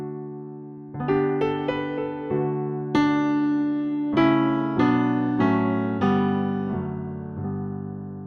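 A Bosendorfer grand piano virtual instrument plays a gentle, delicate sequence of sustained chords and notes, each ringing out clearly with soft attacks and no talking.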